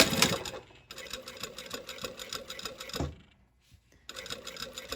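A sewing machine stitches in short rapid bursts along a line, its whirring needle chatter pausing briefly between runs and stopping near the end, close and clear.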